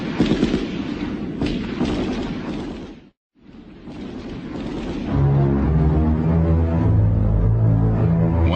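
Bursts of automatic gunfire and heavy booms ring out in a 1990 documentary scene of Turkish commandos fighting near a mountain, loud and echoing, dropping briefly to silence before a sustained droning rumble takes over.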